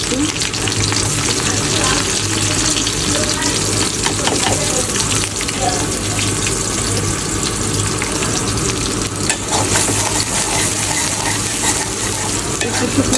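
Shrimp frying in a pan with dried red chillies, green chillies and onion: a loud, continuous sizzle with stirring scrapes throughout, close up and steady.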